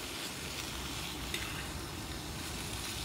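Food browning in a pan over a camping stove, a faint, steady sizzle and crackle running throughout with a light clink of stirring partway through.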